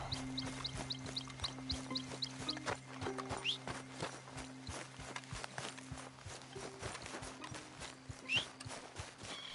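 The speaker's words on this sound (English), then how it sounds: "That horse don't listen." A horse's hooves clip-clop steadily at a walking pace in the Red Dead Redemption 2 video game, with regular close hoof strikes over a low, sustained musical drone.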